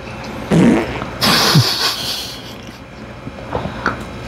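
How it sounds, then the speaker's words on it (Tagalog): A loud, close fart rumbling in two bursts, the second longer and stretched with a rising squeak, over busy outdoor food-bazaar crowd noise in Naic, Cavite. "Utot."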